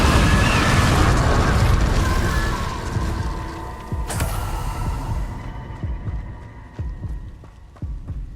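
A fire spell, Incendio, is cast in a Harry Potter video game. A bright burst flares at the start, then a low rumbling roar fades out into a run of softer thuds and crackles.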